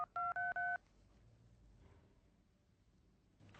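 A landline telephone being dialed with three quick touch-tone beeps in a row, clean and distinct, followed by a faint quiet room tone and a soft rustle at the end.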